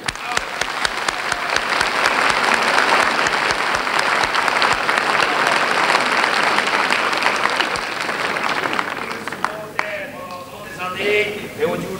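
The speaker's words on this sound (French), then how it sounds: "Nous les applaudissons tous en bloc." Loud, sustained audience applause at a 1968 Charleroi variety show fills most of the stretch, dense and steady, then thins toward the end as a voice begins to come through.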